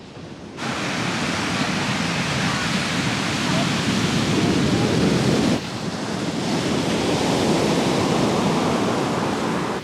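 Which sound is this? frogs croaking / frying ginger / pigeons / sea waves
sea waves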